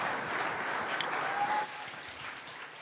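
An audience claps steadily after a qawwali performance at a Shri Guru Puja evening program, a broad wash of applause that drops abruptly to a softer, thinning patter partway through.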